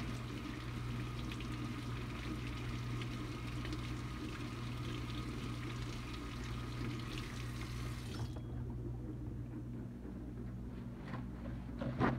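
Running water from a kitchen faucet pours steadily over a hard-boiled egg, a soft continuous rush that cuts off abruptly near the end, leaving a quiet room tone.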